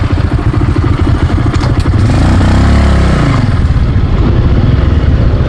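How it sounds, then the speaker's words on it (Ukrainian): A low-slung Honda motorcycle engine drives along loud and close, a steady throbbing rumble with a rise and fall in pitch as it changes speed, and no talk over it. "Незважаючи на низьку посадку, Володіна Хондочка грибе аж дай дорогу, як трактор."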